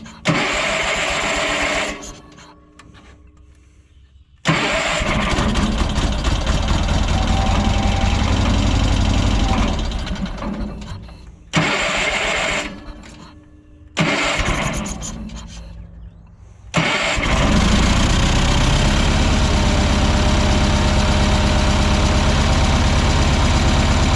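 A Bolens QT16 garden tractor engine more than ten years old idles steadily, cutting out and restarting several times before settling into a loud, continuous running idle close by.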